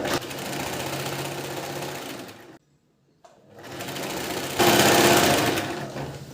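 A sewing machine stitches a princess-cut blouse in loud continuous runs, stops for a brief silent pause, then starts again and grows louder, with no voices.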